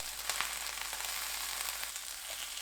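Zucchini slices pan-frying in cooking oil over medium-low heat, a steady soft sizzle and crackle held close and unbroken throughout, with no talking.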